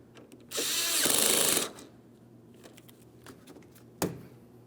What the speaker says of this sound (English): We're starting our mounting bolt and we'll snug it up.